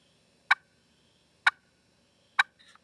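Hand-held turkey call making three sharp, evenly spaced clucks, each short and crisp, close up in otherwise near silence.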